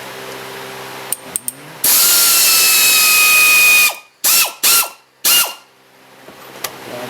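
A ratchet spins rapidly in long bursts on the castle nut of an upper control arm on a 2003-2007 Honda Accord, with sharp clicks, a sustained whirring run and several short loud pulses.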